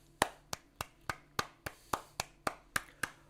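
Hands clap in a steady, crisp rhythm of about a dozen sharp claps, roughly three per second, applause for Juventus Football Club in a quiet room with no talking.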